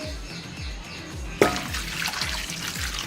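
A mug of water poured into a cooking pot of chicken shami kabab mixture with spices, a sudden splash followed by a continuous gushing trickle, close and fairly loud over a low rhythmic background hum.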